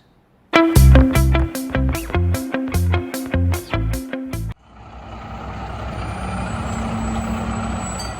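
A truck at a driving school sounds a loud, steady run of about nine reversing beeps, close by, before the beeping stops and a low engine idle with hissing air continues alone.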